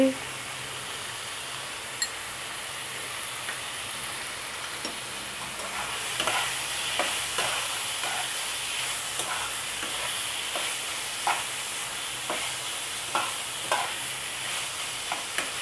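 Spices such as chilli and cumin powder are stirred into minced meat filling in a frying pan, with a steady close sizzle and repeated scraping strokes of a spoon against the pan.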